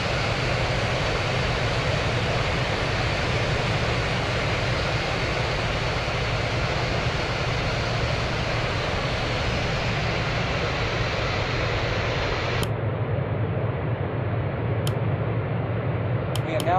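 A Thai Airways A330-300 in Real Flight Simulator rolls for takeoff, its jet engines a steady loud broadband roar that holds constant before cutting off abruptly near the end, with faint clicks after.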